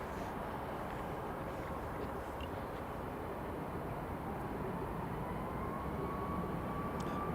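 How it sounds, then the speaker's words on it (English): A Ryanair airliner takes off from Edinburgh Airport, its engines a faint, distant, continuous roar that stays low and steady throughout. "Ryanair, clear for takeoff."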